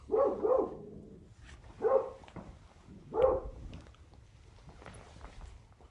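A dog named Tommy barks three times indoors at a steady interval, moderately close and fairly loud, with a quiet room hum between barks.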